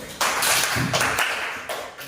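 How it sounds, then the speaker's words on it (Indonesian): A short burst of applause from a class of students during a lesson, dense clapping that starts abruptly and fades over about two seconds, with no talking. "Tepuk tangan dulu."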